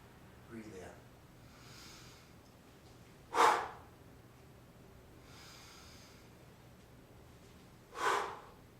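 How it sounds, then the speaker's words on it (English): Two deep, slow exhalations during chi gong practice, each a loud breathy rush a few seconds apart, with a faint breath near the start against a quiet background. "Breathe out, breathe in."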